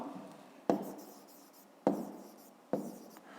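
Pen writing numbers by hand on paper for a fifth-grade maths exercise: three sharp scratchy strokes starting abruptly and trailing off, close and fairly quiet, with no voices.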